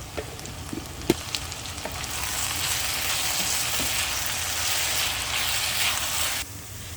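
Onion sautés with salt in a pan as masala for a party-style chicken roast, a continuous close sizzle with a few clinks and scrapes of stirring at the start, then steady frying until it cuts off.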